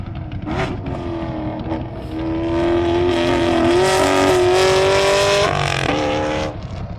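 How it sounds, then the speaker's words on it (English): A Corvette race car engine roars past on a track with a loud, choppy, loping rumble that swells to a sustained peak and then fades as it moves away. "It almost sounds like the cams were made with 55-gallon drums. An incredible lope in that engine."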